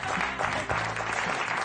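A studio audience on a French television game show breaks into brief, steady applause, a dense wash of clapping that fills the short moment without a pause.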